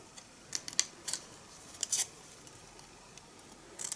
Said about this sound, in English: grab your snips and you want to cut up the score line that we've just made